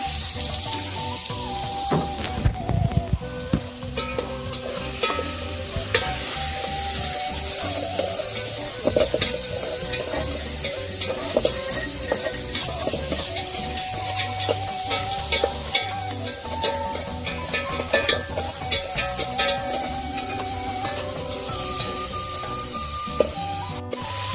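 A spice paste for jackfruit gudeg fries in a pan with a continuous sizzle, while a utensil scrapes and clatters repeatedly as it is stirred, close and steady, no voices.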